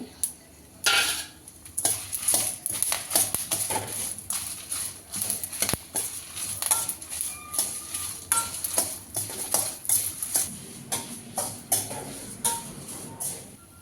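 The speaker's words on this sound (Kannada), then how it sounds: "ಕರ್ಬೇವಿನ ಎಲೆಗಳು ಹಾಕೋತಾ ಇದ್ದೀನಿ ಒಂದು ಹತ್ತು ಬ್ಯಾಡಿಗೆ ಮೆಣಸಿನ್ಕಾಯಿ ತಗೋತಾ ಇದ್ದೀನಿ" Curry leaves and Byadagi chillies sizzle in hot oil for a tempering. A steady frying hiss runs throughout, while a spoon scrapes and stirs the pan in repeated close, rhythmic strokes.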